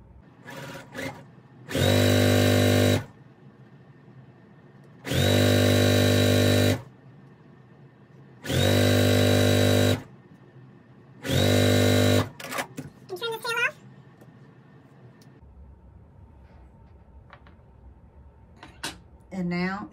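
A sewing machine chain-piecing quilt strips runs in four loud, steady bursts of about a second or so each, separated by pauses filled with quieter handling, fabric rustle and a voice talking.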